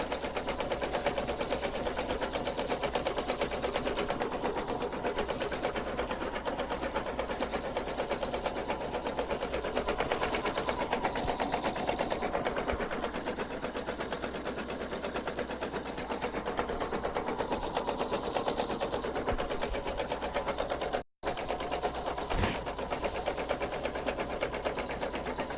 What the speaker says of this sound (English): you're gonna go ahead and run that second to last step, which is just gonna stitch across the top